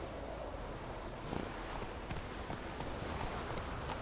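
Horse hooves clip-clop at a steady walking pace over low, even background noise, in the video game The Witcher 3: Wild Hunt.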